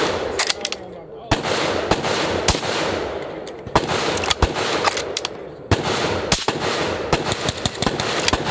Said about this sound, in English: That's an STI or a Staccato nowadays, but STI 2011 suppressed.